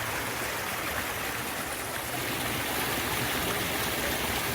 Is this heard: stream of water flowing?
yes